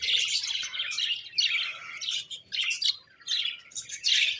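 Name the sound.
cockatiel chicks chirping in breeding cage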